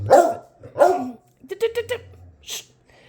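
A dog barks indoors in a house, two loud, close barks followed by a rapid run of shorter yips and one last bark, with quiet gaps between.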